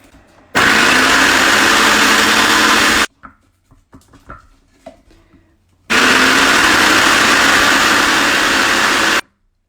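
A food processor creams butter and sugar for shortbread in two loud whirring bursts of about three seconds each, separated by quiet scraping and clatter as the bowl is scraped down.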